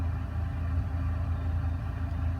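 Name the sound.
car engine running after being revved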